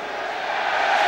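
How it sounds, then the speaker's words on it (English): A home football crowd at Bristol City lets out an ironic cheer during a 2007 derby cup match against Bristol Rovers. It is a brief, distant, broad swell of crowd noise that grows slightly louder toward the end. "ironic cheer from the home crowd"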